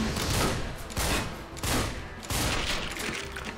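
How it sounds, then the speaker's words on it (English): Dual shotguns firing in the video game Wet, heard as a run of loud, broad booming blasts about a second apart, each fading into a rumbling tail. "Oh, it's dual shotguns."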